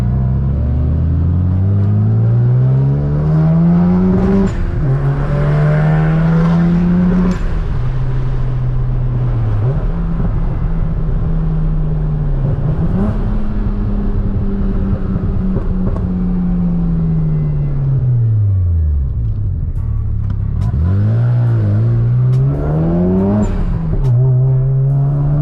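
A Mazda RX7 FD rotary engine pulls hard through the gears, its pitch rising steeply and then dropping at each shift, several upshifts in a row, loud and close throughout with a steady underlying rumble.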